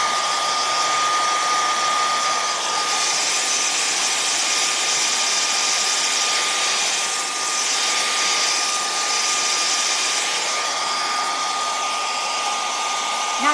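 A hair dryer runs continuously to dry paint on a St. Patrick's door hanger, a loud steady whooshing roar with a thin whine, close and unbroken throughout.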